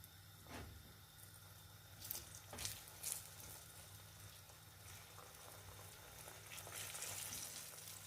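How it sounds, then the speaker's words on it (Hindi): Rolled flatbread frying in a little oil in a hot pan, giving a steady low sizzle and crackle throughout, with a few brief clatters of the pan and no talking. "पैन गर्म होने पर इसमें शामिल करेंगे फ्लैट ब्रेड जो हमने रोल की थी"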